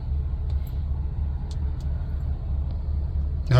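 A 2022 Ford F-350 4WD XL extended cab with a utility body on a test drive, heard from inside as a steady low engine and road rumble with faint occasional clicks.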